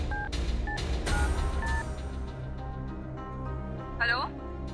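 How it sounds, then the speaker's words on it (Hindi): A telephone is dialed: a few short keypad tones beep in quick succession near the start, followed by a brief warbling electronic tone, over a low background hum. "हम ऐसा करते हैं, अभी रिया को फोन लगाते हैं।"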